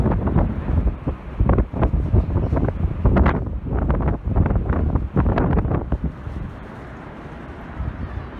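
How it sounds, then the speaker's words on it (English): Strong cold wind at Niagara buffets the microphone in loud, rumbling gusts, then eases into a steadier, softer rush toward the end. "It's very cold and windy."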